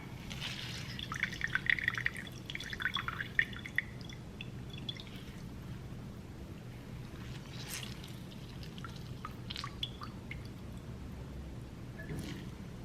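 Water squeezed from oyster mushrooms trickles and drips steadily into a container, with scattered irregular droplets throughout and no talking.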